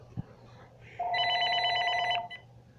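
A telephone rings once with an incoming call, a short burst of bright electronic trilling tones lasting about a second after a small click, with quiet room noise around it.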